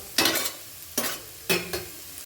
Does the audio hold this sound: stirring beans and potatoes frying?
yes